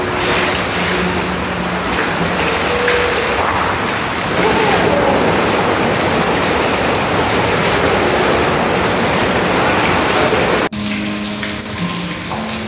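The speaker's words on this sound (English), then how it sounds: "you see it's a like a gushing amount of water on your back and on your shoulders" Powerful jets of water gush from a resort pool massage bed at Garza Blanca in Cancun, a loud steady roaring rush that holds throughout and drops slightly near the end.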